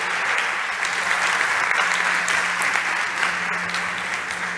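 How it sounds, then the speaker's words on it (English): Sustained audience applause at a startup competition, a thick, even roar of many hands clapping with a low steady hum beneath, continuing at constant loudness. "big round of applause for Nacho Tejero from Webex"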